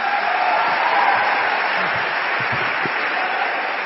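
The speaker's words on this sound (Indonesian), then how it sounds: "Ya Allah, yang tepuk tangannya keras," Loud, steady audience applause fills a hall during an Indonesian motivational success seminar, a dense continuous wash of clapping with no break across the whole stretch.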